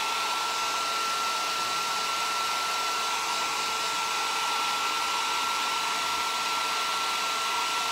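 A hair dryer blows steadily and loudly at close range, drying fresh paint on a piece with no pauses and no talk.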